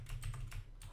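Rapid keystrokes on a computer keyboard while coding a Bukkit plugin, close and clear, with several short bursts of clicking over a steady low hum.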